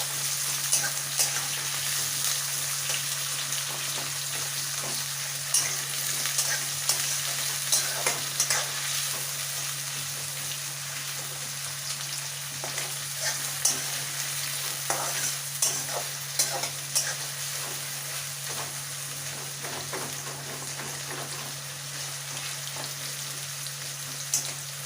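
A quarter kilo of sliced onions fries in a pan for mutton jol, a steady close sizzle broken by frequent scraping stirs and clicks of a spoon against the pan over a low constant hum, with no one speaking.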